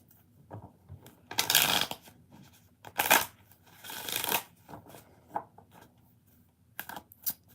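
A deck of tarot cards is shuffled by hand in several quick bursts, soft riffling rasps and slaps separated by short pauses, close and fairly quiet with no talking.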